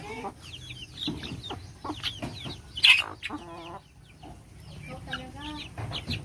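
Chickens and young chicks on a rural farm cluck and chirp in irregular bursts at close range, with a few louder calls and a voice speaking intermittently in between.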